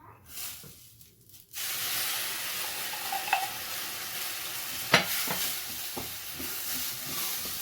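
Onions and lentils sauté in a pan for bulgur pilaf. A few soft stirring sounds come first, then a steady, loud frying hiss begins and continues, with occasional spoon scrapes and a sharper clink partway through.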